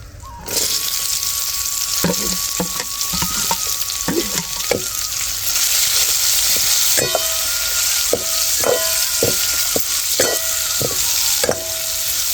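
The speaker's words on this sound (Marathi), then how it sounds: "आता लाल चार पाच मिरच्या टाकल्यात आता कांदा टाकीते" Onion and four or five red chillies going into hot oil, a loud steady sizzle punctuated by repeated clinks and scrapes of a stirring utensil against the pan.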